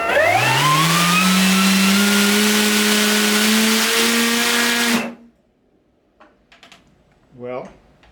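Motors on a Kite3 VTOL drone spin after arming with a loud, rising whine, hold a steady pitch for about five seconds, then cut off abruptly. A few faint clicks and a short voice follow.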